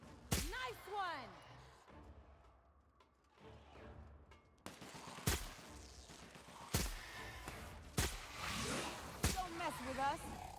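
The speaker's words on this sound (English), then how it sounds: "Opening fire!" Sharp gunshots in The Outer Worlds, single loud cracks spaced a second or so apart amid game sounds and voices talking.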